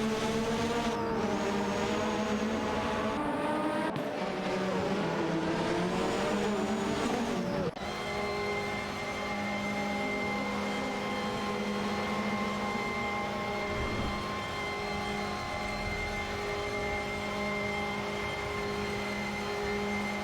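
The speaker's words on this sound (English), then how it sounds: "Nogas 77 and Ferrari 77 in the Ferrari F1 87-88C are fiercely contesting P10 against Komodo 3K and Zygo 22 in the McLaren MP44." Formula racing cars in a video game, among them a Ferrari F1 87-88C and a McLaren MP44, with loud, high engine whines that rise and fall in pitch through gear changes, continuous for about twenty seconds.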